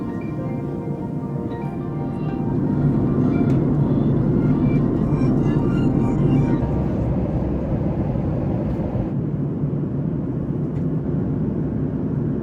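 Airliner cabin noise during cruise toward continental Europe, a steady low roar with faint clinks and rattles, easing a little near the end.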